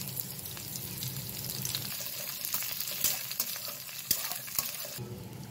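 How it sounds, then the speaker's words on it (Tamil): Green chilli, ginger and curry leaves sautéing in a pan, giving a soft, continuous sizzle with a few sharp stirring clicks and scrapes, fairly quiet and with no speech. "நல்லா வதங்கட்டும்."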